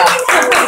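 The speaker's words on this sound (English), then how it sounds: "we need a clap for this" A quick burst of hands clapping at a cosmetics brand press preview, loud and close, lasting under a second.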